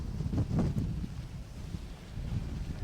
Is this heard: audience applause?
no